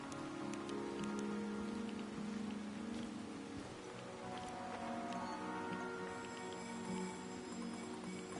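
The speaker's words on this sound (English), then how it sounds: "It's raining." Steady rain in the video game Chernobylite, a dense, even patter of drops on surfaces that continues without a break throughout.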